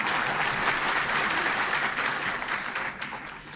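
An audience claps steadily in a dense burst of applause, fairly loud and even for a few seconds before tapering slightly at the end.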